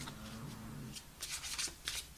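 Tarot cards are shuffled close up, a soft riffling followed by a few quick flicks and taps of the deck.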